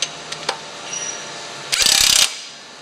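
Torque-controlled impact wrench tightening a nut: a few faint clicks, then a brief loud burst of rapid hammering that stops abruptly once the set torque is reached, up close.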